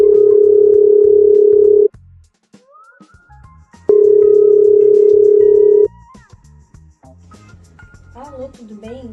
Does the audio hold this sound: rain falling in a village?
no